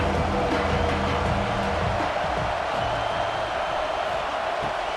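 A stadium crowd at a college football game between Mississippi State and South Carolina roars in a dense, continuous wash of cheering and noise that stays loud and steady throughout.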